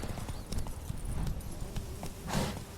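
A horse's hooves clip-clop at a steady gallop in The Witcher 3, a close, rhythmic patter of quick repeated thuds at moderate volume with a short whinny-like burst near the end.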